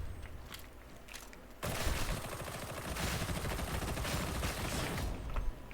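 Shredder Autopistol gunfire in Warhammer 40,000: Darktide: a few sparse shots, then a sudden sustained rapid-fire burst that rattles loudly and continuously for several seconds, with mechanical clatter.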